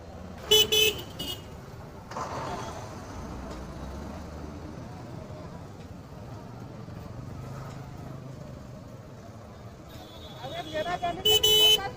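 Stalled traffic in a jam on the road through Mangaon, with car horns honking in bursts at the start and end over a low idling rumble of vehicles and faint voices.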